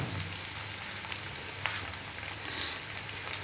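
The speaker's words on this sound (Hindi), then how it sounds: "ये देखें मेरा थोड़ा सा इसका सौते हो गया प्याज, जिंजर गार्लिक।" Onion, ginger and garlic sautéing in a pan for a mixed vegetable dish, a steady soft sizzle and crackle running evenly throughout with no talking.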